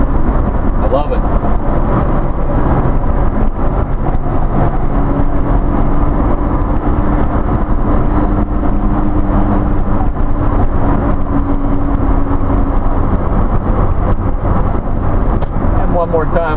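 A custom 1988 Honda Acty SDX HA1 kei mini pickup truck with a flat bed cruising on a rural state highway, giving a steady, constant engine and road drone, with talk over it.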